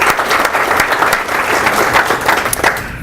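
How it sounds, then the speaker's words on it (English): Audience applause fills a hall at a workplace innovations session, steady dense clapping that holds at an even, loud level for several seconds with no voices over it. "So let's give them a round of applause here."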